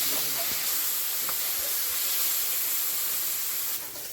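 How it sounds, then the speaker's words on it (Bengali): Small mourala fish sizzle in hot oil in a kadai with a little turmeric, a steady loud hiss and spatter running throughout without pause. "মৌরল মাছটা ভেজে নেব"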